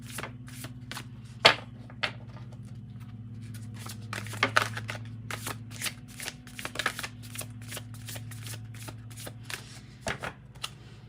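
A spellcasting oracle card deck is shuffled close up, with crisp riffling and irregular flicking bursts of card noise over a low steady hum.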